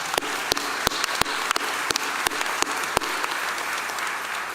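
Audience at a foundation's annual membership meeting giving applause, though it comes through as a run of sharp, evenly spaced single claps over a steady room hiss.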